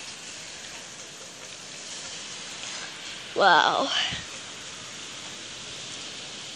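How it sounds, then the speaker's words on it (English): Heavy rain pours down as a steady, dense hiss that builds slightly over several seconds, while a person briefly exclaims partway through. "Oh, the rain's picking up."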